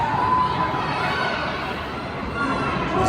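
A pro wrestling crowd fills the arena with a continuous, far-off roar of cheering and shouting, swelling slightly at the start and end.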